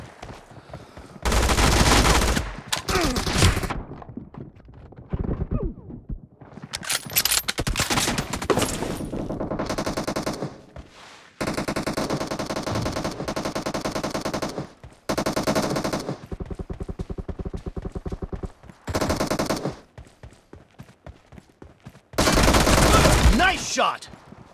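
Gunfire in the mobile battle royale game BGMI: long, loud bursts of rapid automatic fire alternate with short gaps and single shots over about twenty-five seconds.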